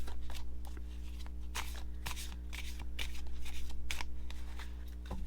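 A deck of oracle cards being shuffled close up, a steady run of soft riffling flutters and papery slaps repeating for several seconds over a constant low hum.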